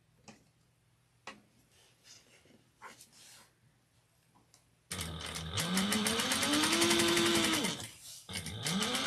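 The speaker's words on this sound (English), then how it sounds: "I'm going to top stitch this" A sewing machine top stitches fabric. Faint ticks and small handling sounds come first, then the motor starts up loud and close with a fast rattling needle chatter that rises in pitch, cuts out briefly and runs again.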